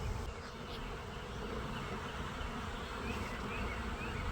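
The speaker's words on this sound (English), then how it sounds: "There's the bees." A swarm of bees clustered high in a tree, about 30 feet up, buzzes steadily and densely throughout, a continuous faint drone with no talking.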